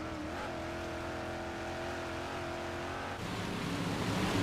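Dirt track race cars at Cedar Lake Speedway during a race, with engines droning and revving steadily as a couple of cars run together, loud and continuous, with a surge near the end.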